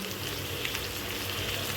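Masala-coated chicken sizzles steadily in a hot pan, with a dense, even crackle of frying that stays loud and close throughout, with no talking.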